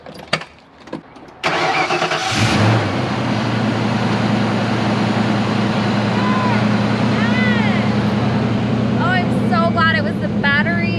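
A few clicks, then a Fox Body Ford Mustang GT's 5.0 V8 cranks and roars to life, settling into a loud, steady idle nearby while a voice speaks briefly over it.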